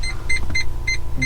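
A rear parking sensor in a used Semisysco D2 micro electric car beeps in a steady rapid rhythm of short high tones over a loud, low hum from inside the car.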